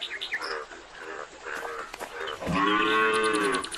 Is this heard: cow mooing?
yes